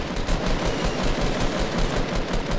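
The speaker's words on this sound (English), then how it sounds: "Just keep shooting at them." Rapid, dense Fortnite gunfire rattles on without pause, close and loud, with bursts blending into a continuous barrage of shots.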